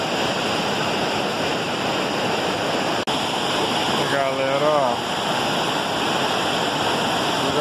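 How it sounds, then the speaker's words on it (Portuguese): Waterfall on the Barra Seca river, a steady loud rushing roar of falling water close by, with someone briefly speaking over it. "Bonita a cachoeira, ó."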